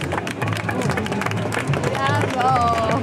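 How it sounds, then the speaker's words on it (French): A studio audience applauds on a French television programme, steady dense clapping mixed with crowd noise and chatter, with a voice talking over it near the end. "On le remercie, on l'applaudit."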